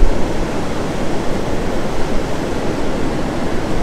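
Ocean waves on the Gulf Coast beach at Mustang Island roll in as a loud, continuous broadband roar of surf, steady with slight surges and no voices.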